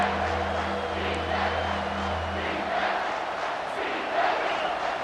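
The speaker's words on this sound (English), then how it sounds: "this crowd will blow out a vocal cord to help this defense" Stadium crowd in EA Sports College Football 25 roaring on third down to help the defense, a loud sustained roar with a low rumble underneath that fades partway through.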